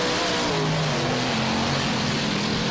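Monster truck engines, including Gravedigger, roar and rev hard during a race at a beach track, a loud, dense, unbroken growl with shifting pitch as the trucks corner.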